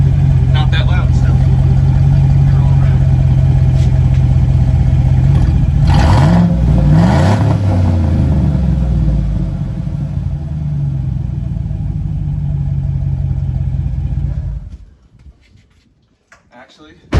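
A 2015 Chevrolet Silverado with no muffler idles loud and close, then revs once in a sweeping climb and fall before settling back to a rumbling idle and cutting off near the end.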